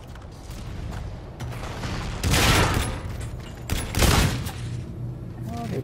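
Gunfire in Call of Duty: Infinite Warfare multiplayer, with a couple of loud bursts of rapid shots standing out from steady game background noise.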